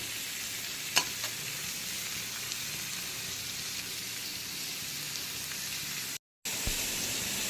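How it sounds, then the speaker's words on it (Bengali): Prawns fry in spice masala with a continuous, even sizzle like light rain. There is one faint clink early on and a brief gap near the end, and no voices are heard. "এখন চিংড়িগুলোকে এই মশলার সঙ্গে ভালো করে ভেজে নেব।"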